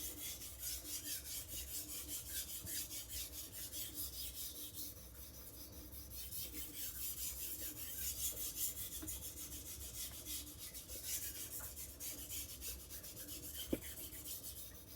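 Continuous steady rasping and rubbing as a Tojiro kiritsuke knife is drawn across a Naniwa diamond sharpening stone, with about 150 grams of hand pressure on the blade, close and even throughout.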